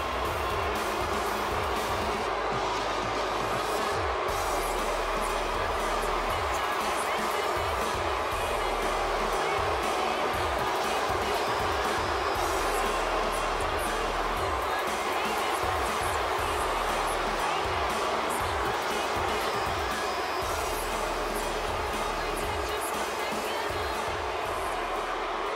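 A large simulated arena crowd from the WWE 2K18 wrestling video game, at an Elimination Chamber bout, fills the whole stretch with a steady, loud roar of cheering and chatter that never lets up.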